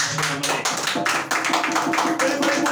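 A worship congregation claps hands loudly and quickly in a dense, rhythmic patter of many hands, with voices faintly mixed in under the claps.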